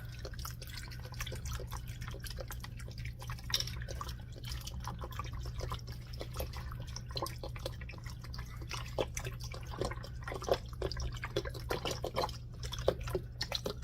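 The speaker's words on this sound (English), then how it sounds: "I'm going to do a 32-ounce thing of chicken broth. Just pour the whole thing in there." A 32-ounce carton of chicken broth poured into a soup pot of potatoes and vegetables, a quiet continuous trickle and splash of liquid over a low hum, with small dripping glugs.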